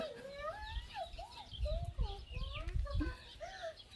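Silkie chickens cluck and call at a farmyard, with several short pitched clucks and squawks spread across the moment, moderately close, over low thumping handling noise.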